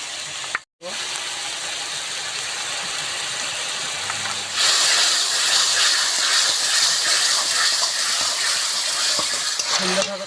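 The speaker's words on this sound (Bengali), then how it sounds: "সুন্দরভাবে কষানো হয়ে গেছে মশলাটা" Masala paste being stir-fried in a pan for bhindi posto, a dense steady sizzle and hiss that briefly cuts out, then swells louder midway with rough scraping stirs, close by without talk.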